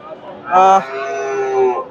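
A Friesian heifer gives a loud, drawn-out moo at Bogura's Dhap cattle market, with a faint murmur of a crowd in the background.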